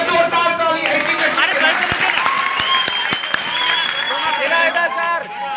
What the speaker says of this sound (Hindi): एक जोरदार ताली ऐसी में।